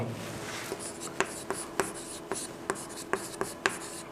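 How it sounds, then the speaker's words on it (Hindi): Pen or chalk writing on a surface, a series of short scratchy strokes tapping out an irregular rhythm over about four seconds, close and fairly quiet with no talking. "यहाँ लिखेंगे"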